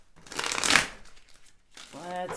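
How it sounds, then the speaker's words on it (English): Tarot cards shuffled by hand, a dense papery riffle that swells and fades, followed by a brief voice in the background. "I felt the need to shuffle a lot for you guys"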